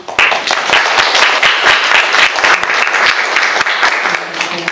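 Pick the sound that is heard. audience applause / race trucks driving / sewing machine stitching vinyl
audience applause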